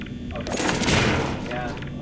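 Gunfire in Garry's Mod crackles as a dense burst of rapid shots swelling through the middle, loud and close, blended with other game noise and a voice talking over it.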